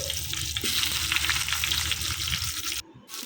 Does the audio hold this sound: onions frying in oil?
yes